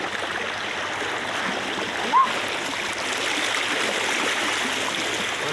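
Strong river current rushing steadily during a typhoon, a continuous broadband roar of flowing water that stays loud and even throughout with no speech.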